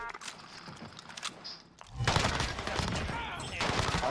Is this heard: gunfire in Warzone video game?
yes